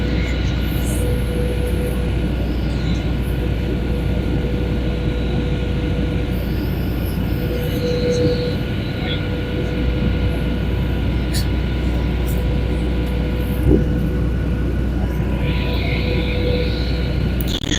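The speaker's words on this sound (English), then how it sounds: "This is Malawi Airline, Boeing 737." A Malawi Airlines Boeing 737 in flight near Lilongwe fills the cabin with a steady, loud low roar and hum that runs unbroken throughout, with brief faint clicks and a voice speaking over it.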